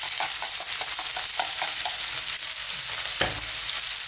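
Garlic and ginger, mostly garlic and lightly salted, frying in a pan for smoky eggplant bharta. A steady close crackling sizzle runs throughout, with faint stirring scrapes and one sharper clink near the end.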